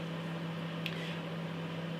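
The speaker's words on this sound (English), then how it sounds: "we got 30 seconds left on the microwave of this chili hot dog" A microwave oven hums with a steady, low, even drone as it heats a chili hot dog, with a faint brief click partway through.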